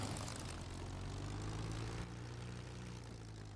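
Propeller engine of a P-51 Mustang in the DCS flight simulator, a steady low droning hum with a slight drop in pitch partway through, continuous and fairly faint.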